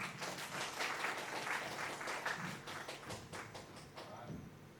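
Applause from an audience at a community launch event honoring the mayor of Fountain Valley, a steady, fairly quiet patter of many hands clapping over nearly five seconds, with some crowd murmur beneath.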